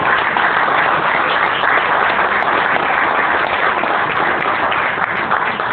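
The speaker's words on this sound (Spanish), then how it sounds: "¡Nos aplaudamos!" A room full of people applauds together at a tribute event for a radio station's 50th anniversary, producing dense, steady clapping that stays loud and even throughout.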